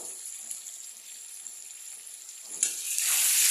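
Mutton mixed with masala fries in a pan with a soft, steady sizzle, then a louder burst of hissing and scraping near the end as the pan is stirred.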